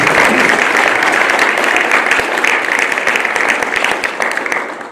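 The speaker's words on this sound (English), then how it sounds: "Can we give them all a round of applause?" Audience members at a 2022 candidates forum in Rancho Cucamonga break into sustained, dense applause that stays loud and full before tapering slightly at the end.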